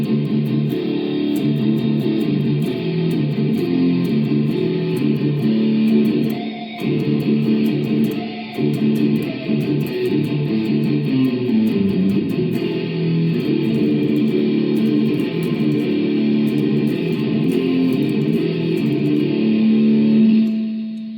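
An electric guitar plays through an amp via an iRig and iPad with the gain turned up, producing a thick, distorted, sustained tone that drones on steadily and loudly without a break.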